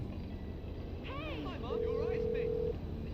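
An in-game phone call to an insurance company in GTA V: a steady electronic ringing tone holds for about a second beneath a voice talking over a constant low rumble.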